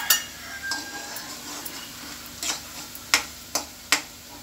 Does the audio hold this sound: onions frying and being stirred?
yes